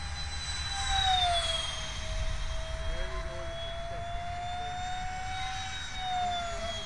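A Hobbyking Flyjet X-83 RC jet with a 64mm electric ducted fan passes low over trees at wide-open throttle into the wind, giving a steady, high-pitched whine that swells and fades with wind noise.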